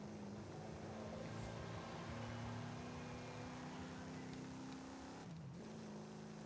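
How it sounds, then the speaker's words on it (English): A race car engine in Forza Horizon 5, a diesel-like low-revving motor, drones steadily and loud throughout, with a brief dip and pitch change near the end like a gear shift. "This is not a very revving engine."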